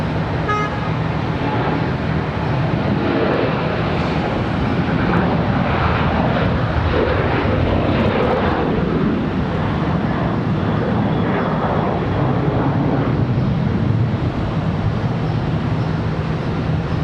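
Jet airliners roar away one after another on rapid departures from Charlotte Douglas International Airport, a loud, sustained broadband engine rumble that swells and drifts for the whole stretch without any voices.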